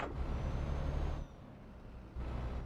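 A truck's parking air brake engages in a rainy truck-driving game: a loud, sustained hiss over the idling engine cuts off abruptly, followed by a quieter lull, then the engine rumble returns.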